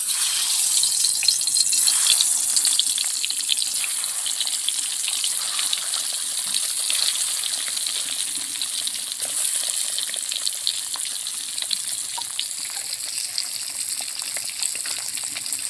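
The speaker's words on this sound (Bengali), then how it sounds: "আমি এবারে ডিমগুলো ভেজে নেব" Eggs frying in hot oil in a pan for a curry, giving a steady, loud, bright hiss and sizzle that holds for the whole stretch with no talking over it.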